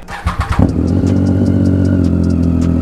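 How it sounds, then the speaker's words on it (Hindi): Tata Altroz Racer engine cold starting: a few quick cranking pulses, then it catches into a loud, steady idle close by, with no talk. "सबसे पहले तो इसको कोल्ड स्टार्ट करते हैं"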